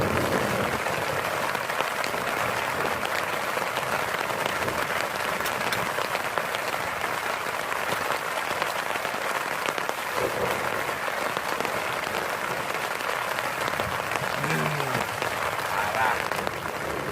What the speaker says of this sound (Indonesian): Baru sampai langsung hujan.